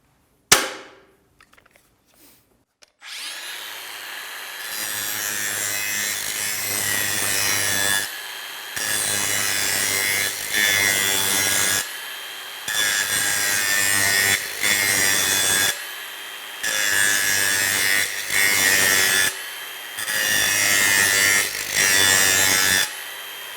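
A Makita 18V brushless cordless X-Lock angle grinder grinds down a knife in loud, close bursts of several seconds each, separated by short pauses, with a harsh abrasive whine throughout.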